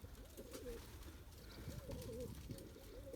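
Pigeons cooing softly and continuously, faint and somewhat distant against steady outdoor background noise, with no talk.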